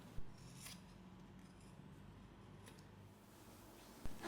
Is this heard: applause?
no